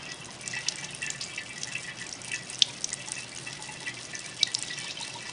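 Water pours from a container into a sink during an optics lab demonstration, giving a faint, steady splashing hiss with a few sharper drip-like ticks. No one speaks.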